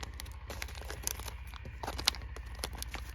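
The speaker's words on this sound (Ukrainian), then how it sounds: "Е, відриваємо, дивимося, що тут всередині." A space food tea packet is torn open nearby with quick, faint crinkling and ripping of the wrapper. Sharp snaps of the material rise over a low background hum.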